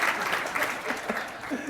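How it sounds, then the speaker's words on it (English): An audience at a talk on AI and humane workplaces gives a round of applause, steady and continuous throughout, with some voices mixed faintly underneath. "give James Slavet a round of applause"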